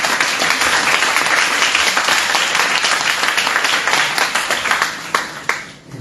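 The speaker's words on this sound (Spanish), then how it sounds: "pido al señor Contralor un aplauso muy fuerte" An audience at a Universidad Ricardo Palma lecture on measuring corruption in Peru breaks into loud, sustained applause, thick steady clapping that thins into a few scattered claps and fades toward the end.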